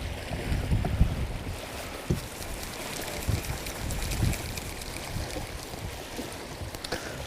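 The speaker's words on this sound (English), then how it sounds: "Wind is picking up." Steady wind gusting outdoors by the water during fishing, a continuous broadband rush with low rumbling microphone buffeting that swells and eases, no talking.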